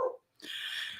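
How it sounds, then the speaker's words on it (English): Dog giving a short whimpering bark followed by a higher, sustained whine or yelp, close and fairly clear in a quiet room. "That's my dog, Tyler."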